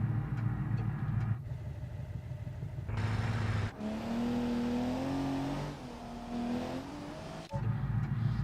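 Car engines rev and accelerate in BeamNG multiplayer with too many cars on track, a sustained droning roar with rising and falling pitch as throttles open and ease off.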